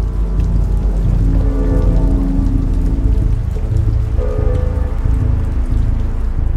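Steady, heavy rain falls continuously as a sound effect, a loud, dense hiss of drops with a low rumble beneath, unbroken and without voices.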